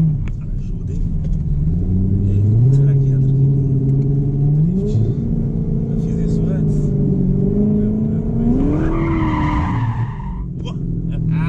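A car drifting with engine revving and rising, falling tones, then a tire squeal near the end. The sound is loud and continuous, close by.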